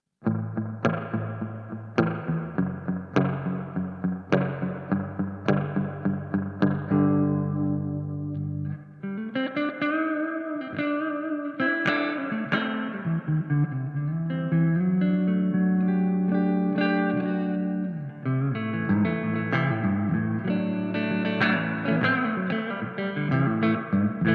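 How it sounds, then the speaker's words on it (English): Electric guitar through a Marshall MG15CFX amp's built-in spring reverb plucks quick notes, then sustained bending chords, all drenched in springy, splashy reverb that lingers and wobbles. "the spring reverb that's built in the amp"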